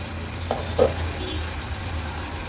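Onion cooking in an uncovered pan for a jackfruit-seed dish, giving a soft, steady sizzle with a couple of faint clinks near the start, quiet and close.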